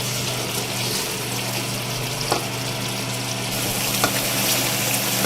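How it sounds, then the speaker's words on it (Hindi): Mutton and potatoes fry in oil with a steady, close sizzle, broken by a couple of brief stirring scrapes, with no voices. "अब हम इसको थोड़ा अच्छी तरह से भून लेंगे।"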